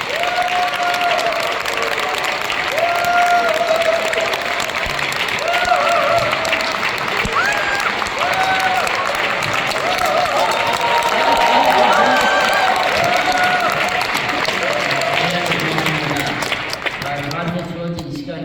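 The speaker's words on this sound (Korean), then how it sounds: "박수 쳐주세요." Audience applause mixed with cheering in a lecture hall, as a crowd welcomes a speaker to a talk; dense, steady clapping and voices fill the whole stretch before tapering off at the end.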